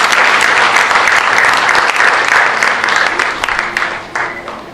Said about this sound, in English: every one of you all should have a round of applause from me and our board of directors